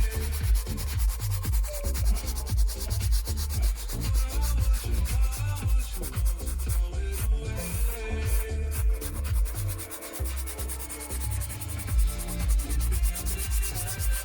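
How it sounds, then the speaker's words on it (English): A brush scrubs beige car interior upholstery with close, continuous rubbing strokes that repeat in a quick, steady rhythm throughout. "Brush, or you may use a microfiber towel, but I prefer to use this."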